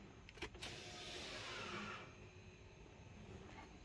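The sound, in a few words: BMW X3 F25 electric parking brake engaging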